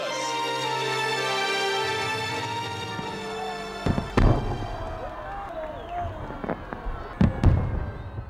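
Victory Day salute fireworks: after a sustained musical drone fades, a series of sharp booming bursts and crackles follow, some with rising whistles, sounding at mid-distance.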